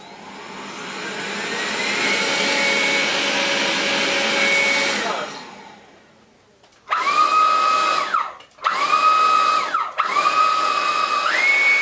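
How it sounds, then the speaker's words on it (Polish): A Dreame T30 cordless stick vacuum cleaner runs with a loud, steady motor whine. It winds down and falls nearly silent, then comes back in three strong bursts with a sharp, shifting pitch between them. "teraz sprawdźmy, jak odkurza Dream T30"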